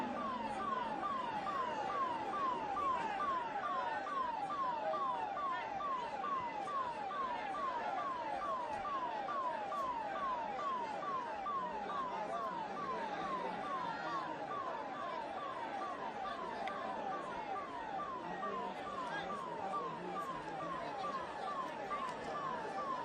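An ambulance siren wails on a street in India, its fast repeating rising-and-falling cycles continuous and fairly distant. Traffic and murmured voices sit underneath.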